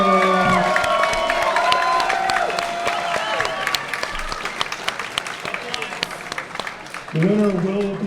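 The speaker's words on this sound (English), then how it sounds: "Ladies and gentlemen, another round of applause for these two fighters." A crowd at a Muay Thai super-fight event applauds and cheers the two fighters; steady clapping and shouts fill the space while an announcer talks over the PA, with tonal music or a voice entering near the end.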